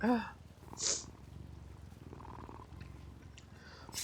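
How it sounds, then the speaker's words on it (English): A pet cat purrs close to the microphone with a soft continuous rumble, and a short higher meow or squeak near the start. "Purring and everything"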